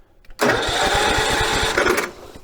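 A repaired lawnmower engine, just fixed with a new solenoid, cranks and catches, then runs with a loud, steady chugging roar for well over a second before dropping back, close by and alone.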